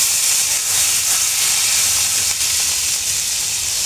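Malabar spinach leaves and garlic frying in a hot pan, a loud, dense, unbroken hiss of sizzling oil throughout.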